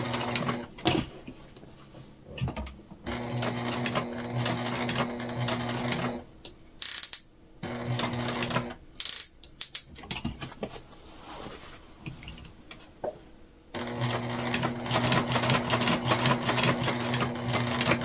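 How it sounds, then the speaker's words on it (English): A sewing machine stitches around a fabric bag in repeated bursts of fast mechanical whirring and clatter, broken by short pauses. "we just sewed around our entire box"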